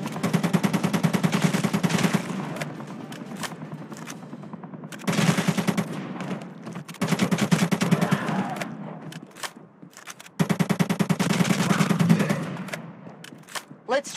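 Rapid automatic gunfire from shooting zombies in the video game ZOZ: Final Hour, coming in four loud sustained bursts separated by short pauses, close and dense, with game sound underneath.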